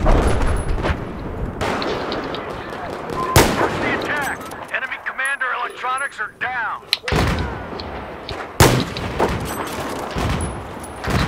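Sniper rifle and other gunfire from a Battlefield 4 multiplayer match: loud sharp shots stand out at several points, with rapid gunfire and game sounds between them and no speech.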